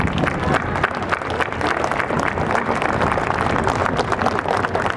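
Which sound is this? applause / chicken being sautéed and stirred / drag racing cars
applause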